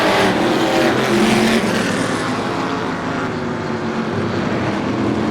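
Vintage modified race cars roar around Star Speedway in a feature race, a dense, continuous engine drone with a loud pass early that eases slightly as the pack moves on.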